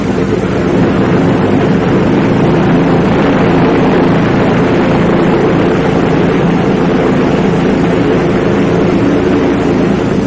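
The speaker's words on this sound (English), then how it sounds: "Now, another check, including a run-up of the engine." A 1954 American Airlines Douglas DC-7 airliner runs up its piston engines before takeoff, a loud, steady, broadband roar that fills the whole stretch without letup.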